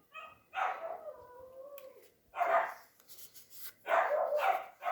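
Pet dogs barking excitedly out in a backyard, three loud bursts of yelping barks with a drawn-out howl-like whine in the first, heard alone without talk.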